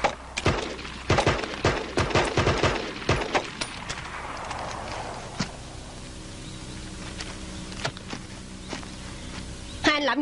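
Gunshots fired into the air in an action film come as a burst of sharp cracks spaced close together, then fade into a lingering echo and room noise. A final crack comes near the end.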